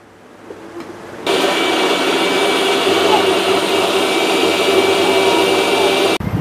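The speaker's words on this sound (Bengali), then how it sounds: "দেখতে পাচ্ছেন আমরা পানগুলোকে ব্লেন্ড করে নিচ্ছি।" An electric blender grinds betel leaves into a paste, starting with a sudden loud, steady motor roar that holds for about five seconds and then cuts off. Quieter handling sounds come before it.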